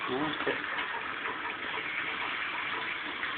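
Running water gushes steadily at a moderate level throughout, a continuous splashing flow like a strong tap.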